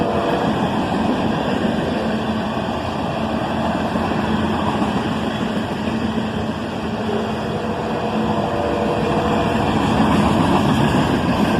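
A southbound CSX manifest freight led by an ES44AC and an ES40DC locomotive rolls past, giving a loud, steady, broad rumble of engines and wheels on rails that holds without a break.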